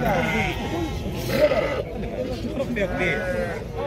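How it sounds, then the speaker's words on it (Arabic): Sheep bleat repeatedly in a wavering chorus at a busy weekly livestock market in El Hajeb, where sheep and ewes are sold for Eid, with a crowd murmuring and chattering close by underneath. "خرفان وخروفات ملاح تبارك الله"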